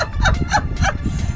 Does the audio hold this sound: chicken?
yes